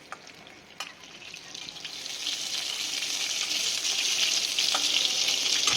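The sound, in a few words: pointed gourd (potol) frying in oil in a pan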